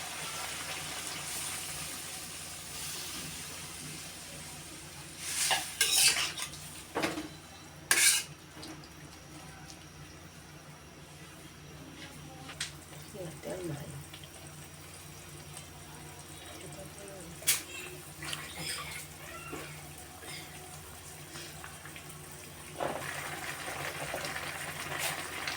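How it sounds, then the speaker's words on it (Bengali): Water is poured into a cooking pot of bottle gourd greens being prepared with tengra fish. Low splashing runs under kitchen clatter, with sharp clinks of utensils against the pot and occasional background voices. "এখন জল দিয়ে দিলাম।"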